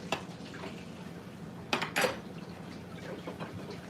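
A utensil being washed at a kitchen sink during a harvest preservation day, with soft clinks and scrapes of metal against dishes over faint running water, close by.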